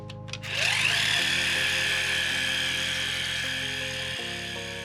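A pressure washer jet blasts the underside of a car, starting with a short mechanical stutter and then settling into a loud, steady high-pitched whine with a dense spray hiss. It sounds close, constant and uninterrupted, with no voices.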